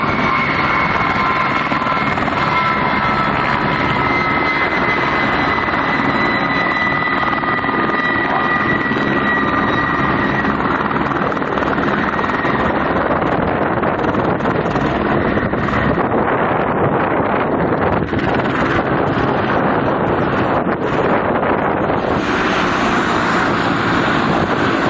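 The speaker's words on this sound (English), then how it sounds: "the plane makes an unusual and dangerous maneuver." An airplane pulls an unusual, dangerous maneuver in flight, heard as a loud, continuous engine roar thick with wind buffeting that swells and shifts toward the end, with no speech.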